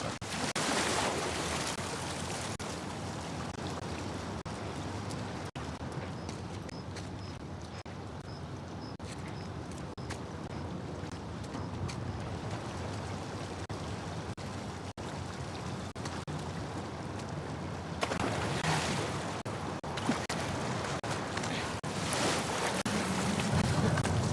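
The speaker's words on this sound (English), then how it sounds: "the player was faced with a fast-flowing torrent of water they couldn't cross." Fast-flowing torrent of water in the sewers of The Last of Us Part II, a steady, loud, broadband rush that continues throughout and swells slightly near the end.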